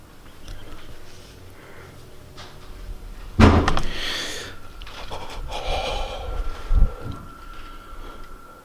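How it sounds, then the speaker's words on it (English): A sharp, loud door slam cuts through a quiet room, followed by shaky breathing and a second thud. "Again, a door slams, making him jump out of his skin."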